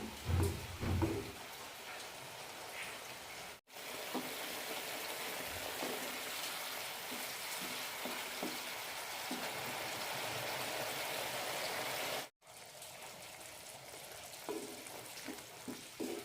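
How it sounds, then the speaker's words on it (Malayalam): Egg curry gravy boiling in a pan gives a steady, soft bubbling hiss that stays continuous for most of the stretch, cut by two brief silences, with a few faint clinks near the start. "നന്നായി മിക്സ് ചെയ്യാം അഞ്ച് മിനിറ്റ് നന്നായി തിളപ്പിക്കാം"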